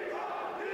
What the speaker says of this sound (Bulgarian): Ето и публиката най-сетне реши да подкрепи българския боец.